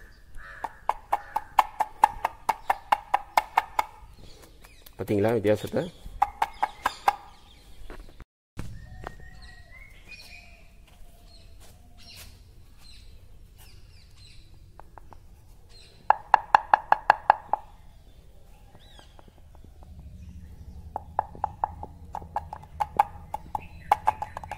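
Tapping on a stone pillar in the Thiruvidaimarudur Mahalingeswarar temple gives bursts of quick, sharp, resonant knocks in rapid runs, close and fairly loud, separated by quieter gaps with a brief voice.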